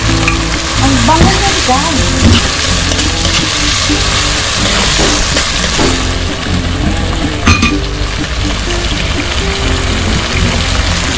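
Ground pork sizzles and fries loudly in a pan for ginisang monggo, a steady crackling hiss with occasional stirring, while a person speaks briefly over it.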